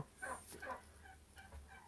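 Turkeys gobble in a dim coop where two hens sit on freshly laid eggs, giving a few short, faint calls in quick bursts with quiet pauses between.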